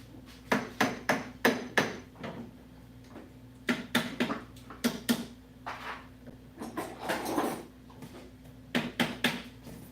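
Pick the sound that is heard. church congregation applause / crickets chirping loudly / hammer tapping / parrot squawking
hammer tapping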